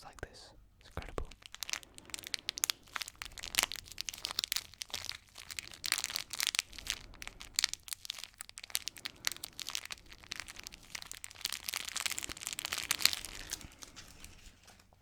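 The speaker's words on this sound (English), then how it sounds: "They make the best crinkle sounds" Close, quiet crinkling of packages in irregular bursts of crackling and light tearing-like rustles, handled slowly in a soft ASMR setting.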